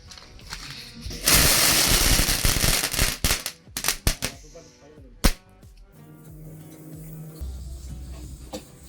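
A Sivakasi firecracker bursts and scatters colored paper, loud crackling and a rapid string of sharp pops, then a few scattered bangs fading into quieter background noise.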